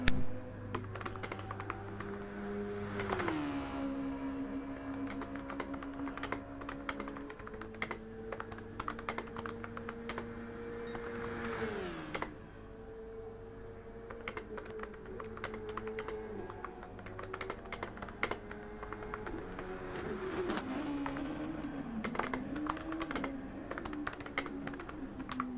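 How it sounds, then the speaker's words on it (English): Steady typing on a computer keyboard, rapid clicky keystrokes continuing throughout under a constant droning race-car engine whose pitch rises and falls, from a Super Formula racing game session. "Just realised my amazing typing"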